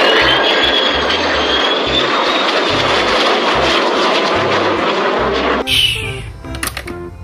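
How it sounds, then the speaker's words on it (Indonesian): Jet aircraft roaring loudly and steadily at close range, a broad engine rush with rising whine that cuts off abruptly near the end, giving way to quieter clattering sounds. "ini ada jet"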